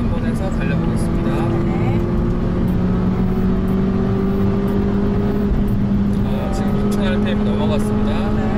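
Volvo Polestar S60/V60 engine revving past 6000 rpm while overtaking, a steady loud rising engine drone with road and wind roar throughout, and someone talking over it.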